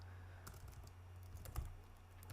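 Soft, scattered keystrokes on a computer keyboard tap out a line of code, quiet and close over a low steady hum, with one sharper thud partway through.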